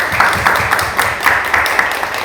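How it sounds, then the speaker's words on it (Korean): Audience applause at a live talk show event about car-tech AI startups, a steady, moderately loud round of clapping with a few sharper claps standing out near the microphone. "조정 이사님께 박수 한번 부탁드리겠습니다."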